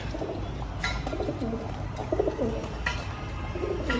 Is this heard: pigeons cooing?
yes